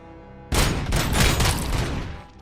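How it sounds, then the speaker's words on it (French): A turret in the game RoboCop: Rogue City opens fire on enemies: a sudden loud burst of rapid gunfire that starts abruptly and rolls on as dense, sustained shots before tapering off, with no talk over it. "La tourelle, elle s'est occupée de 3 ennemis."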